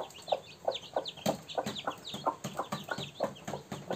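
Young chickens call in quick, repeated peeping chirps at an even rhythm, close and fairly clear.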